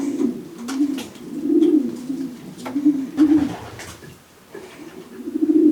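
A racing pigeon coos close by in repeated low, throaty phrases with brief pauses between them. Faint handling noise sits underneath.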